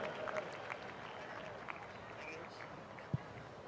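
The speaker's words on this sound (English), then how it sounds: "How about a warm round of applause?" Spectators at a college football homecoming game in a stadium give a round of applause, a faint, distant patter of clapping mixed with crowd voices and an occasional sharp knock.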